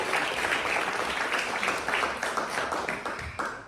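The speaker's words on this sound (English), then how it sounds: "give Arlie a round of applause" Audience applause fills a health inequalities network gathering, dense steady clapping from a crowd, loud and close, tapering slightly toward the end with no talk over it.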